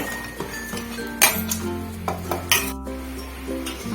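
Spoon clinking against a pot while boondi is stirred into sugar syrup for boondi laddu, a few sharp metallic taps and scrapes over a low steady hum, close and moderately loud.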